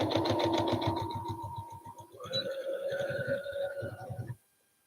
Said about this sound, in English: Just going to sew over those, back stitch.